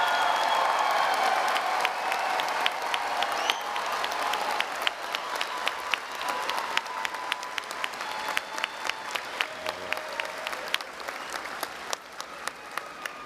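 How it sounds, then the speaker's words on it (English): Large crowd at a university commencement ceremony applauding veterans, a sustained roar of clapping that gradually thins into sparse, distinct claps toward the end. "Let's give them a round of applause."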